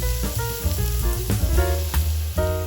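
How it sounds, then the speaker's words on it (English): Onion cooking in oil over medium heat, a close crackling sizzle with a musical tone running underneath and small pops scattered through it. "Cook the onion over medium heat until softened and lightly golden"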